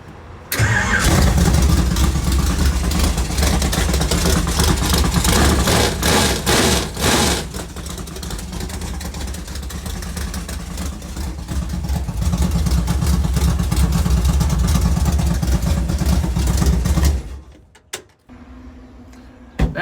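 A car engine with a severe misfire, after a distributor swap, runs loud and close with a rough, uneven roar for about seventeen seconds, then cuts off abruptly into near silence.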